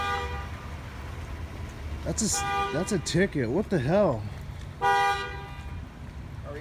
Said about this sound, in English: Who the freak is honking?